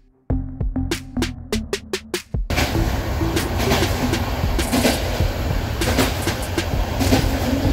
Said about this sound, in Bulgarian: Тръгнахме и малко дрънчи